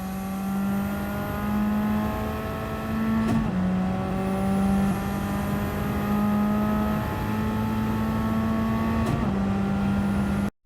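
Steady engine drone from a race car in Gran Turismo 7 at the Brands Hatch circuit, held at high revs with slowly rising pitch and two brief shifts or dips, loud and continuous with no talk.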